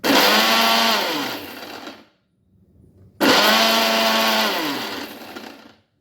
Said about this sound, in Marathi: आता आपण मिक्सरच्या भांड्यामध्ये चटणी वाटणार आहोत